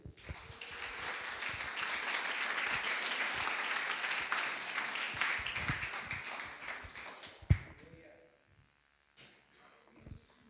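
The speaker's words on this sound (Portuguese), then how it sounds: "Pastor Diogo, recebam a Deus aplaudindo, igreja." A church congregation applauds at an evening service, a dense wash of clapping that swells for several seconds, fades out with a few stray claps and knocks, then gives way to quiet.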